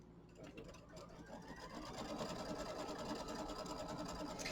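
Embroidery machine stitches a tack-down line onto quilt batting for a Kimberbell mini quilt, a fast steady whirring hum, faint and close, growing slightly louder.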